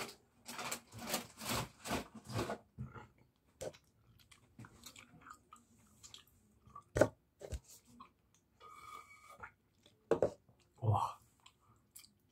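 Gum chewed close to the microphone in ASMR style, with wet smacking and crunchy bites in bursts, loud and intimate, broken by short pauses and a few brief voice sounds.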